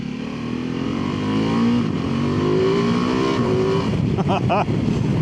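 A 2025 Ducati Multistrada V2 twin-cylinder engine runs with a steady low throb that rises in pitch through a few revs, then brief higher whines and clatter near the end, loud and close with no voice.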